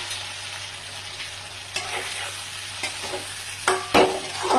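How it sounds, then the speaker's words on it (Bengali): Fried brinjal is tossed into a spiced masala of chili powder, chili paste and turmeric in a pan, with a continuous sizzle broken by spatula scrapes that grow sharper and louder toward the end. "এবার বেগুনটা দিয়ে দেবো এর মধ্যে। ভেজে রাখা বেগুনটা দিয়ে দিলাম।"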